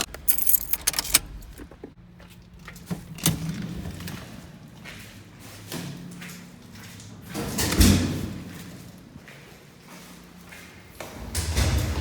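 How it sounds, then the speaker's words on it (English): A car being parked on Front Street in Toronto, with keys jangling and a car door opening and shutting, a few distinct clinks and thuds over steady street noise and passing traffic. "Just parked the car in a good spot."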